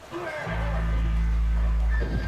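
In the video game Red Dead Redemption Undead Nightmare, a horse of the apocalypse lets out a loud, deep, drawn-out neigh close by over steady game background noise.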